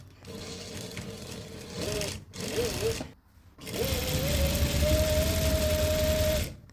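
Domestic sewing machine stitching fabric for a shirred dress, running in short bursts with brief pauses, then a longer steady whirring run, close up.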